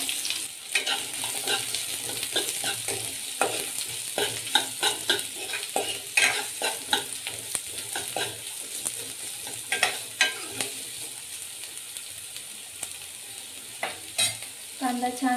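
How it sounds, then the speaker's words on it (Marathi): Chopped onion frying in a pan for katachi amti crackles steadily up close, broken by repeated scraping stirs of a spoon against the pan. "सोनेरी रंग येईपर्यंत छान भाजून घ्यायचा आहे कांदा"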